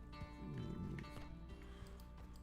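A horse gallops in the video game Red Dead Online, its steady hoofbeats running loud and close over a layer of game music and ambience.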